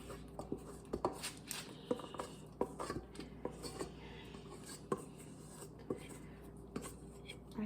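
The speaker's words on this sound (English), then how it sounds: "I'm going to scrape out my dough onto the parchment paper." A dough scraper works sourdough out onto parchment paper with quiet, irregular scrapes, taps and rubbing sounds, close and soft.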